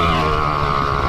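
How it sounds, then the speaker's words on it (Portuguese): A motorized paraglider flies overhead with a loud, steady propeller-engine drone in one brief continuous stretch. "Mano, é um parapente."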